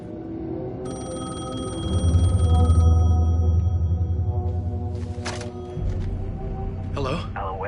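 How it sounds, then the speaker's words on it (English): A telephone rings in the video game Alan Wake 2, a steady electronic tone over a deep droning hum, followed by a sharp crackle and a rising whoosh. "The phone was ringing."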